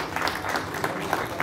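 Audience at a community talk in Actopan, Hidalgo, applauding with steady, dense clapping throughout, moderately loud and close, with some faint crowd murmur mixed in.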